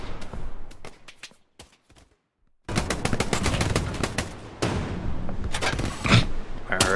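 Kar98k bolt-action rifle gunshots in the World War II shooter Hell Let Loose, a few sharp cracks at first, then a short lull and a loud, busy run of repeated shots and impacts close by.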